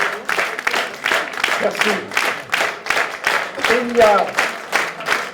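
Steady, dense applause from an audience in the Balma auditorium greets a speaker at a political speech. A voice talks briefly over the clapping.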